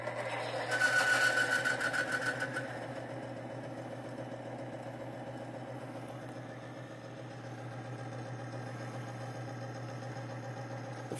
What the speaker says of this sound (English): as this bearing is failing, I'm just going to rub a little Thixogrease right in the middle of the race